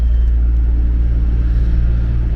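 An airport crew bus carries passengers across the apron after a Vietnam Airlines A350 flight to Hanoi, heard from inside as a loud, unbroken low engine and road rumble with no voices.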